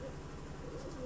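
Soft pigeon cooing, a low murmuring call heard faintly for about a second.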